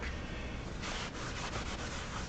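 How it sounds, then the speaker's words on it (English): Steady, close scratchy rubbing of sandpaper lightly across the printed side of craft material, with short back-and-forth strokes and no talking. "sanding it just a little bit on the printed side is always helpful"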